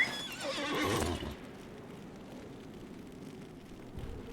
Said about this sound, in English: Let's get on my horse.